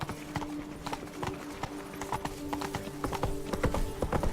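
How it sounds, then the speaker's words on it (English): Hoofbeats of a horse galloping in The Witcher 3: Blood and Wine, a fast, steady clip-clop rhythm that stays close and loud throughout, with no talk over it. "Run, Roach."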